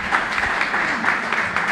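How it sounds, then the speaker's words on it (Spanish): Brief applause from an audience at a computer-science-in-schools event, moderately loud with uneven, pulsing claps for under two seconds. "Ahora sí, aplauso"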